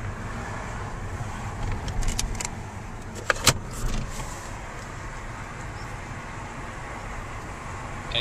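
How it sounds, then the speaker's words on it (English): A plug-in hybrid car cruising through town back streets at 30 km/h gives a steady low interior road rumble, with a few light clicks and rattles near the middle and no talking. "this is a typical drive through the town, through some back streets at 30 kilometers per hour."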